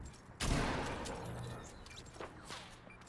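A sharp gunshot blast in a shooter video game rings out early, followed by fainter crashing and impact sounds from the game action, with no talking.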